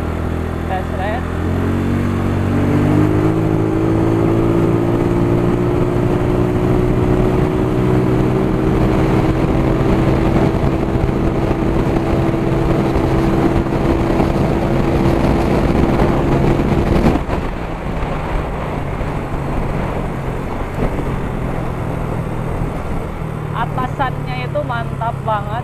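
A Yamaha Mio 130cc scooter accelerates hard on a test ride, its engine note rising steadily in pitch before easing off, loud and close, with wind noise and a rider talking over it.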